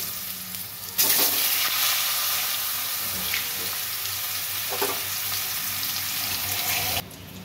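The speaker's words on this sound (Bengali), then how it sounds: "পেঁপে আলু সেদ্ধ করেছি, ভেজে নেব।" Boiled papaya and potato frying in oil in a pan, a loud continuous sizzle that starts abruptly and holds steady for several seconds before cutting off, with faint stirring and no talking.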